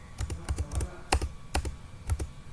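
Someone types an ipconfig /all command on a computer keyboard: a quick run of crisp, close key clicks in uneven bursts, ending with firmer strikes, with no talk.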